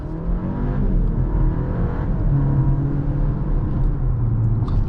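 A 2024 BMW X2 M35i hot hatch with its dual-clutch gearbox in sport mode and the powertrain in Sport Plus, its engine droning loud and steady as it accelerates, with no talking.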